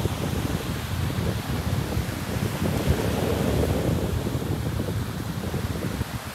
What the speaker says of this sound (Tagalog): Habagat kasi talagang malakas dito yung hangin.